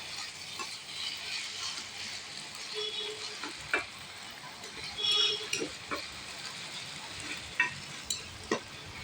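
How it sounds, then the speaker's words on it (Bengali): Tilapia fish pieces sautéed and stirred in a pan give a steady, close oil sizzle, broken by sharp spatula clicks and scrapes that come every second or so, with no talking. "আর মাংসের মতো করে একটু করে ভুনিয়ে নেবে।"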